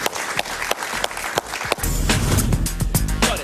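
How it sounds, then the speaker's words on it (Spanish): A television talk-show studio audience applauds a guest, the Colombian foreign minister, with dense, steady clapping that swells fuller and louder partway through and keeps going. "Un aplauso para él, por favor."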